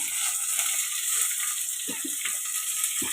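Crushed garlic, curry leaves and coriander sizzling in hot oil in a pan for sambar, a steady close hiss with a few faint clinks and stirs; no talking.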